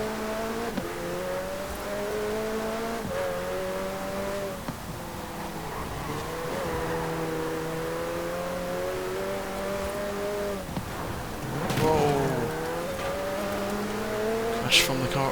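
A sports car engine drones and revs steadily with shifting pitch, a brief rise near the end with tire noise, in Forza Horizon 4.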